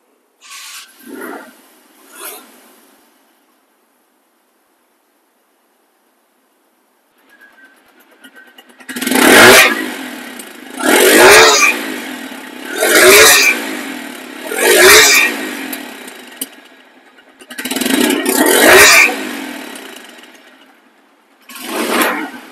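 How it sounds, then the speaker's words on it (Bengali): A motorcycle engine starts with a couple of short bursts, then idles and is revved repeatedly in several loud surges, close by. "বাইকটির সাউন্ড কোয়ালিটিও একদম নতুন, একদম নতুনের মতো আছে"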